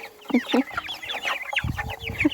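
Chicks and hens cluck and peep in a farmyard, several short chirping calls and low clucks overlapping at close range over about two seconds.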